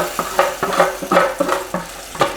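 Pinot Grigio hits a hot roasting pan holding beet and carrot juices, olive oil and seasonings, giving a loud bubbling sizzle with rhythmic scraping strokes of a utensil against the pan, close and continuous.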